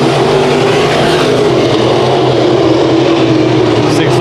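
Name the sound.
Sport Mod race cars racing at Bakersfield Speedway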